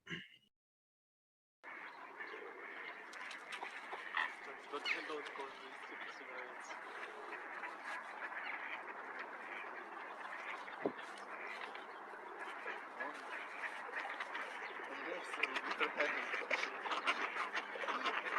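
Geese call in a played video heard over a room, honking and cackling again and again in a busy, moderately faint chorus after a short silence.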